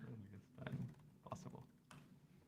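Soft, quick keystrokes on a computer keyboard come in brief irregular bursts, faint and close, with a quiet voice murmuring underneath.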